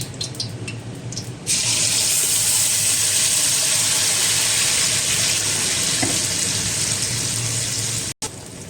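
Steady loud sizzling hiss of ingredients frying in a hot, smoking wok for chicken rendang, continuous and close, with no talking.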